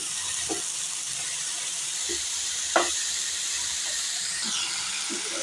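Sweet corn and ridge gourd curry is stirred with salt in a pan over a steady soft sizzle and hiss, with a few faint spoon scrapes and one sharper clink near the middle.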